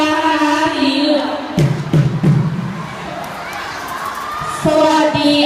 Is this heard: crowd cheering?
yes